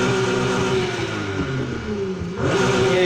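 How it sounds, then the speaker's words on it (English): A Mitsubishi Lancer Evolution X exhaust revs in the racing game Need for Speed Heat, a loud, steady engine drone that dips briefly and then climbs back to full volume, with no voices. "And the exhaust sound."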